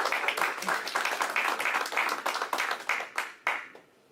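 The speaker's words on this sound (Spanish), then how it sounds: "Den un aplauso al Señor esta mañana en alabanza" A church congregation at a Spanish-language service claps in praise to the Lord. Brisk, fairly close clapping runs in a quick, slightly rhythmic patter with some voices mixed in, and it trails off into a few last sharp claps.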